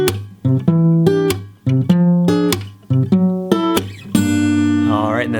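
Close, solo acoustic guitar plays the third line of the bridge of the Toy Story theme: a bouncy sequence of chords and picked notes that ends on a sustained, ringing chord.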